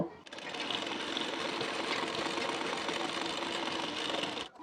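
A sewing machine runs steadily and close by, stitching a hook strip onto a size 40 bra-cut blouse, giving a continuous rapid mechanical whir for several seconds without pause.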